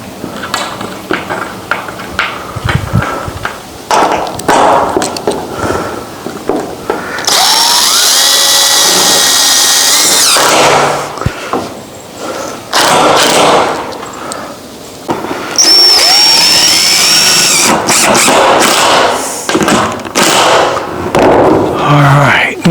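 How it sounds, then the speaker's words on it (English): A power drill drives screws through corrugated metal roof panels on a goat barn in two loud, sustained whirring bursts, each roughly three to six seconds long, with scattered knocks and handling noise between them. "Now we'll screw that one in."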